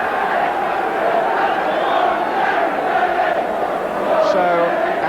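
A Coventry City football crowd roars after a goal in a 1980/81 First Division match against Crystal Palace, a dense, continuous mass of cheering and shouting that swells slightly near the end, heard from within the stadium.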